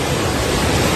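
Calm sea waves wash onto a La Union beach shaded by trees, a broad, steady rush of surf and wind noise close to the microphone with no voices.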